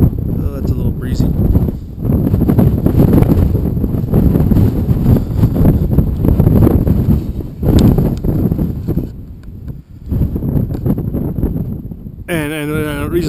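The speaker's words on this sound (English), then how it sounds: "Oh, that's a little breezy." Wind buffets an outdoor microphone in a loud, gusty rumble that runs through most of the thirteen seconds, dipping briefly a couple of times, while a person keeps talking underneath.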